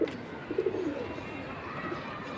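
Pigeons at a loft give a few soft, low coos close by over a muffled, noisy background.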